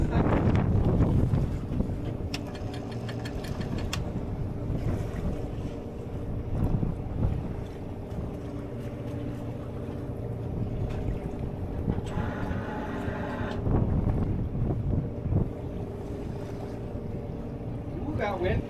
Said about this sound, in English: Ooh, that wind pretty much just comes right through you.